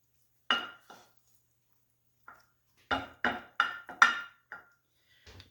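A spoon spreads hamburger mixture across the bottom of a pan for a crustless taco pie, with a series of sharp, close clinks and scrapes, several in quick succession, with quiet gaps between.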